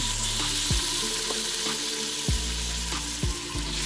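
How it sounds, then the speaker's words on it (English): Beef short ribs sauté and brown in a pan, giving a steady, loud sizzle and crackle throughout, with a few sharp clunks as pieces are moved or turned. "I'm gonna start sauteing"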